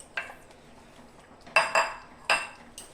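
A metal pot of chicken rezala is handled and covered with its lid, producing a handful of sharp metallic clinks and clatters spaced irregularly over a quiet background.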